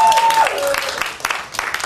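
Brief burst of audience clapping at a live comedy show, mixed with crowd noise and a voice over it, fading after a second or so.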